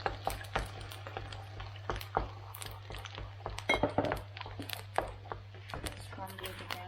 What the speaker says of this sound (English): Scramble it again. Yes. Mix it well.